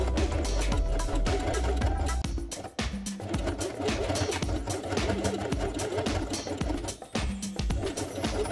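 Sewing machine stitching felt carpet along the edge of a felt dollhouse base page, a fast steady mechanical chatter running close and continuous, briefly pausing twice before resuming.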